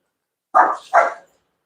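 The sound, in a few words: dogs barking while playing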